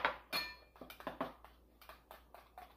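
A spoon stirs coffee, hair conditioner and lukewarm water in a small bowl, giving a string of light, close clinks and scrapes in an irregular rhythm, quiet and without voices.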